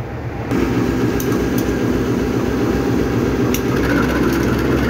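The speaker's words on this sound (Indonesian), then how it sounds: "Kereta api Tawang Alun diberangkatkan terlebih dahulu dari stasiun Pasuruan." The Tawang Alun passenger train pulls away from Pasuruan station with a loud, steady diesel rumble close by, joined by a few faint high metallic squeaks and no talking.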